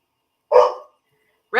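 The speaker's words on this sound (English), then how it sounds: "He's looking at his mother and barking" A German Shorthair Pointer barking indoors at home, one short sharp bark followed by the start of another after a pause, fairly close and moderately loud with no talk over it.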